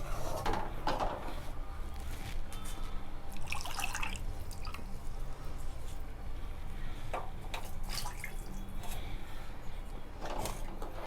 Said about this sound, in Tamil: இன்னும் கொஞ்சம் கூட தண்ணி ஊற்றிக்கலாம்.